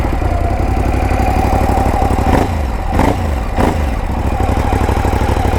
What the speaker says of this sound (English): That's a lot of grunt coming out of that exhaust.